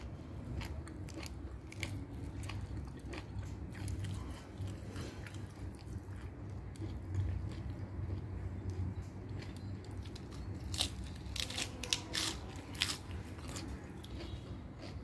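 Crisp, crunchy chewing of fresh lettuce eaten with Thai stir-fried chicken noodles (kua gai), close to the mic, with irregular bites and mastication running steadily throughout.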